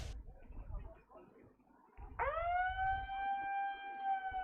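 A siren blares at a lawn bowls championship to mark the end of the timed 60-minute game, starting partway through as a steady, loud, sustained wail above outdoor crowd murmur and commentary.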